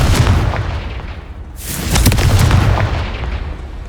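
A Confringo blasting spell explodes in Hogwarts Legacy, a loud, close, broadband boom that bursts out midway and rumbles away over a busy game backdrop.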